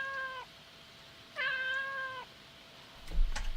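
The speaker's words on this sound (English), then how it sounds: "There's a cat in here." A cat meows twice in the video game Alicemare, with drawn-out, tonal calls separated by a pause, followed by a couple of soft thuds over quiet background.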